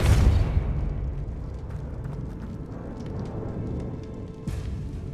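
Depulso spell cast in Hogwarts Legacy, a forceful blast that hits loud at the start and then settles into a low rumbling wash with a few faint crackles, ending in one more burst.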